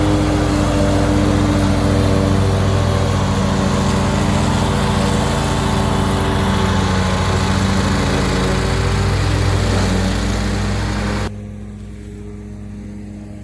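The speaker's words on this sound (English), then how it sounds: "we're just going to show how the Ferris cuts. This is our hay field." A Ferris zero-turn lawnmower cutting a tall hay field gives a steady, loud engine drone close by. It runs unbroken, then drops abruptly to a quieter level near the end.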